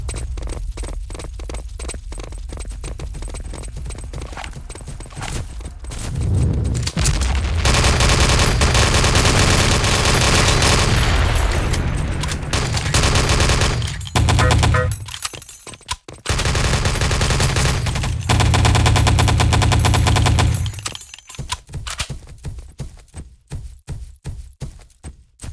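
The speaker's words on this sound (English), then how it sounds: "Dynamite planted." Gunfire and explosions in a multiplayer video game after dynamite is planted on a radar map: loud sustained automatic fire and heavy blasts in long waves, with quieter rattling gaps between them.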